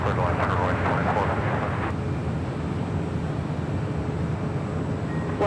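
An airliner roars steadily at Los Angeles International Airport, a broad continuous jet rumble heard from a distance, with an air traffic control voice talking over it.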